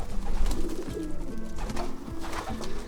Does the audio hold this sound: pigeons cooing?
yes